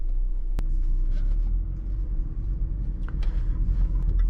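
A 2017 Jaguar F-Pace 35T Prestige AWD with an automatic transmission pulls away in normal drive mode, heard from inside as a steady, low engine and road rumble with a single sharp click early on.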